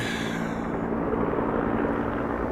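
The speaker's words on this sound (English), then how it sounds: "The choppers are filling up just behind the house." Firefighting helicopters refilling at a nearby dam during a bushfire in Tasmania give a steady, loud rotor roar that fills the air without pause, with no voices.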